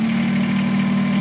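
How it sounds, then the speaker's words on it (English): A brand-new 2019 Kubota BX2380 sub-compact tractor engine idles steadily with a low, even diesel drone and constant mechanical vibration, loud and close, with no talk over it. "we're gonna go ahead and start it up"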